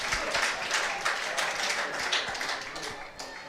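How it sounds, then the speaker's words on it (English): Crowd applause ripples through a cricket ground at New Road during a women's double-header after a good fielding stop, steady broadband clapping sustained throughout the short stretch with no pauses. "Roundly applauded by a good crowd in here at New Road for this double header."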